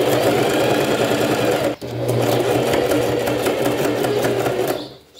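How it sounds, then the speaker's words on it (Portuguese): A sewing machine stitches together scraps of fabric, running loud and close with a steady rapid mechanical whir, pausing briefly once before carrying on and then stopping. "Pezinho de máquina aqui, tá vendo, ó? E vamos costurando."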